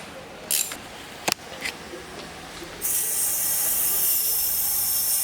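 Steady loud hiss of air escaping from a boost leak on a Subaru intake with an Evo 4 intercooler, starting abruptly after a few light clicks and handling knocks and continuing evenly.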